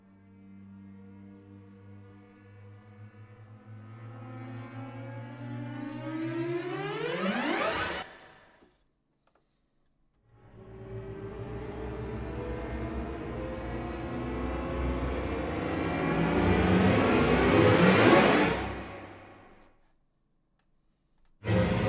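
Two long rising swells of sustained, string-like tones climb steadily in pitch and intensity, each cutting off sharply at its peak, with a brief silence between.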